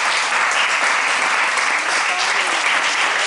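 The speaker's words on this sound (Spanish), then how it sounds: "démosle palmas al Señor" A church congregation applauding during a worship service, a dense, even wash of many hands clapping that stays steady and fairly loud from start to finish, with faint voices mixed underneath.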